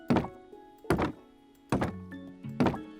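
Bamboo wood blocks in Minecraft, heard as four hollow, resonant knocks spaced evenly apart, each ringing briefly with a woody tone.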